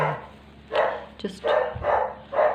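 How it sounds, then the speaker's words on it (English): Several sharp dog barks in quick succession, fairly close, with a short gap between the first and the rest. "So the dogs are barking because they can sense the negative workmen around."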